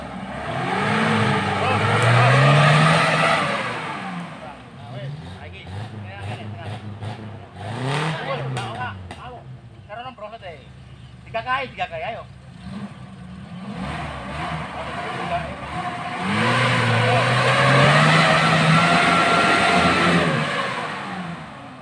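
A Suzuki Katana Jimny struggles off-road, its engine revving up and falling back in loud surges, with shouting voices giving directions over it.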